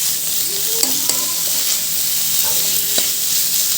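Boiled chicken frying in a pan while being stirred, with a steady bright sizzle throughout and a few scraping stir strokes and clinks of the spoon against the pan, no talking.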